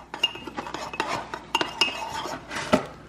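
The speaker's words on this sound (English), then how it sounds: "And so you want to stir it until it is well blended." A spoon stirs pumpkin spice cake mix with water in a mug, giving quick, close clinks and scrapes in an uneven rhythm for a few seconds, with no talking.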